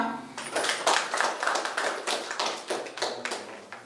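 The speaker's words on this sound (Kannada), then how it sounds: "ಅವರಿಗೆ ನಾವೆಲ್ಲ ಮನಪೂರ್ವಕವಾಗಿ ಅಭಿನಂದನೆ ಹೇಳೋಣ ಚಪ್ಪಾಳೆ ಮೂಲಕ" Audience clapping at a community meeting of a youth association in a village, a steady patter of many hands with rhythmic surges, fairly close and moderately loud, with no talking over it.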